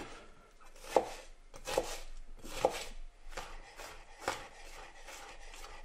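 A kitchen knife chopping shallots on a cutting board, with several evenly spaced, fairly soft thuds at a steady unhurried rhythm, heard alone.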